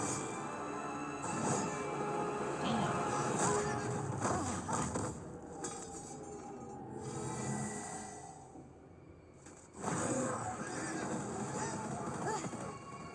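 Horse neighing and whinnying in the animated series Centaurworld, with clip-clopping hooves, music and characters talking over a full cartoon soundtrack.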